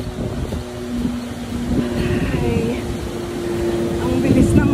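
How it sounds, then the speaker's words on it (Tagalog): Strong wind buffeting an outdoor microphone on a sunny day, a loud continuous low rumbling roar with gusty swells throughout. "papakita ko sa inyo ang hangin. Ayan guys, ganyan kahangin kahit na ma-araw."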